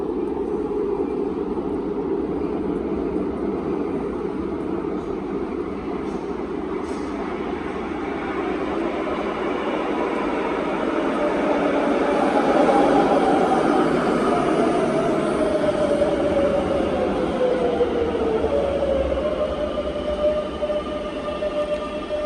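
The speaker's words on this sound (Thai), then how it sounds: "รถไฟมาแล้วค่ะ" A Madrid metro train rumbles into the station and grows louder, with a rising then falling whine as it pulls up, over a steady station hum.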